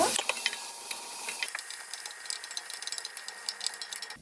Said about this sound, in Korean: 기름을 적당히 둘러주세요. 썰어놓은 양파와 청양고추, 마늘을 넣어주세요.